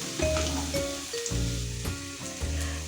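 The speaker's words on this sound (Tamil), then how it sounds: "இந்த பக்கம் வெங்காயம் நல்லா பொரிஞ்சிடுச்சு." Onions sizzle in a hot pan while being cooked for Gobi Manchurian, a steady close-up frying hiss that runs through the whole moment with a few louder pops.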